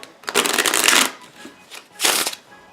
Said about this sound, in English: Now let's see how they shuffle.